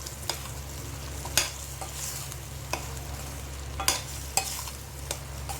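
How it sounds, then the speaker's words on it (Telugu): A spoon stirs drumstick curry with cumin powder and chili in a pan, giving a soft steady sizzle broken by a few sharp scrapes against the metal. No one speaks. "ఈ కర్రీ అంతా ఒకసారి కలుపుకోవాలండి."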